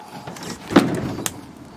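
A car door with broken hinges is pushed shut, giving one dull knock followed by a lighter click, heard close and alone over a faint background hiss.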